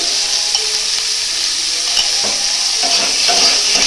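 Capsicum and tomatoes fry in butter with a constant bright sizzle, while a spatula stirs and scrapes against the pan in soft intermittent strokes, close and without voices.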